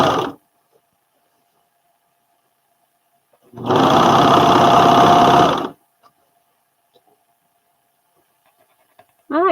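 Sewing machine stitching a seam on overalls, one loud steady burst of about two seconds in the middle, with brief quiet handling sounds before and after.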